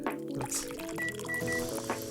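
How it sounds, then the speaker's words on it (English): Milk poured into a cup in the video game Coffee Talk, a soft liquid trickle lasting about two seconds beneath gentle background music. "Why do we need to pour it into a..."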